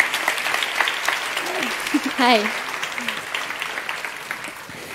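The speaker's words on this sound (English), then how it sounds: "please give a warm applause for our wonderful guest" A university audience applauds a guest in a steady wash of clapping, while voices and a short greeting sound over it.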